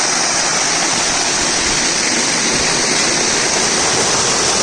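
A waterfall at Sadashivgad roars continuously, a dense, loud, steady rush of falling water heard close by with no pauses or voices over it.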